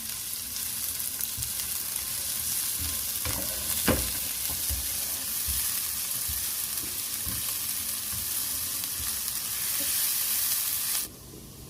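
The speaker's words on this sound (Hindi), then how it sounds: "चॉप किया ऑनियन ऐड कर दिया। अब हम इसे फ्राई करेंगे।" Chopped onion fries in a pan for chicken lollipop, giving a steady close sizzle with a few stirring scrapes and clicks. The sizzle cuts off sharply near the end, leaving a quieter hiss.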